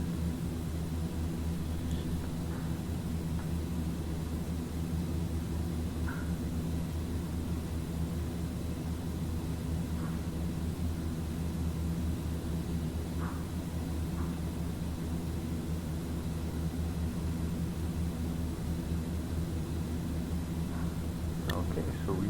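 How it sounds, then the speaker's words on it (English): A Carenado Fokker 50 turboprop taxis at Kisumu in the X-Plane 11 simulator, a constant droning engine hum with a steady broadband rumble and faint clicks, continuous and even throughout. "I'm sure you guys are not interested in how long it takes to taxi a Fokker 50 in Kisumu."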